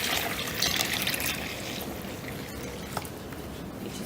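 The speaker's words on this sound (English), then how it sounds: "fill this up with about water to halfway" Water pours from a tap into a salad spinner holding washing powder, a steady close rushing splash that slowly softens into a trickle as the bowl fills.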